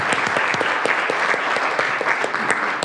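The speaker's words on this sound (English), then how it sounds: "give her a round of applause" An audience at a university distinguished speaker event gives a round of applause, a dense, steady clapping from many hands that fills the room at close range and holds evenly throughout.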